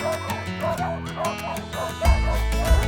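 Several dogs at a farm gate bark, yip and whimper excitedly in a close, continuous clamour, with sharp yelps and a heavier burst of barking near the end.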